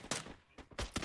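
Gunfire in an esports shooter video game during a mid-range team fight: three sharp bursts of shots, the later two close together, heard against a quiet background.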